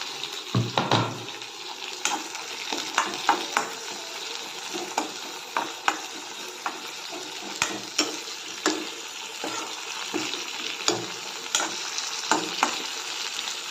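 Tomatoes fry in a kadai for kadai paneer, a steady close sizzle punctuated by repeated stirring knocks and scrapes of a spoon against the pan.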